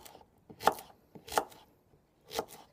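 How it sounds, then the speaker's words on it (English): Three sharp knife chops through small zucchinis on a cutting board, separated by short pauses, close and clear with no talking. "So the little ones, I just chop."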